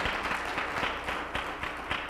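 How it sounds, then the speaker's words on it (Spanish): A church congregation claps for Jesus during a Spanish-language sermon, giving a brief burst of dense, rhythmic applause from many hands, moderately loud and close, with no voices over it. "Le da un aplauso a Jesús."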